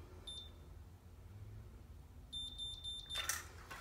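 Three short high-pitched electronic beeps from a curling iron signalling it is ready sound in quick succession over a quiet room hum, followed by a brief rustle.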